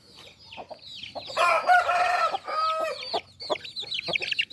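Chickens and chicks on a Tamil farm keep up a busy chorus of clucks and high peeps, with a rooster-like crow rising in the middle. The birds are close, loud and continuous, and nobody speaks.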